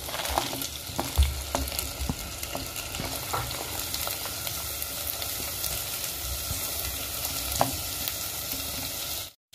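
Carrots and corn stir-frying in a pan make a steady close sizzle, with scattered clicks and scrapes from stirring and no talking.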